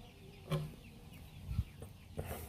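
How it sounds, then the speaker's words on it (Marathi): Kaveri gavran chickens at a poultry farm give a few soft, scattered clucks and short calls, faint and fairly close against a quiet background, with no one talking. "कावेरी गावरान पक्षी."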